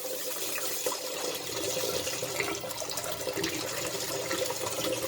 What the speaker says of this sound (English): I got it hitting the side of this kettle fountain and then splashing down into the bowl.